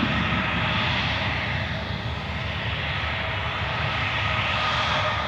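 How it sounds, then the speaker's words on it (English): A Loganair Embraer 145 jet taxis away at an airport, its engines a steady, even whine and rumble held at a fairly constant level throughout, distant and without talk. "Those Loganairs, Embraer 145 just moving away in the background."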